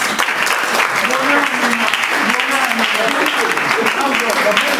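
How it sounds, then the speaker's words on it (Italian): Steady applause fills the room at a presentation, a continuous dense wash of clapping with people talking over it. "un applauso ancora"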